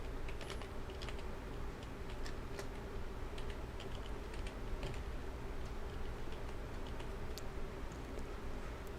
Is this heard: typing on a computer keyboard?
yes